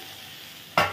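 Vegetables sautéed in a little oil in a pan, a faint simmering hiss followed by two loud, close bursts of sizzling and stirring near the end.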